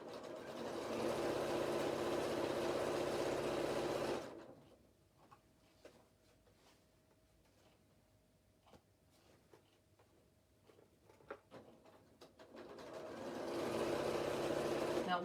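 A sewing machine stitches elastic into a pair of boxers, running loud and steady for several seconds, stopping for a quiet stretch of small clicks and handling noises, then whirring up again near the end.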